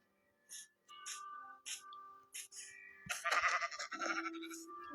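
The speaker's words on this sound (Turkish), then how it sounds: "Aha koyun." Minecraft sheep bleat in short nasal bursts several times, followed by a louder, busier stretch of game sound effects.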